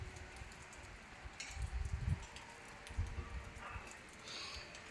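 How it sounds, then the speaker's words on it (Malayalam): Steady rain falling outdoors, a soft continuous patter of drops with a few louder splashes, moderately close and alone without talk. "മഴ തന്നെ അല്ലേ"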